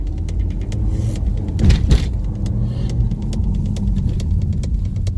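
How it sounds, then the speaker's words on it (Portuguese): A 2018 Honda Civic Touring fitted with a power chip revs hard close by, a steady engine drone that swells briefly midway before settling back, with no talk over it. "Acelerando igual gente grande, o Civic."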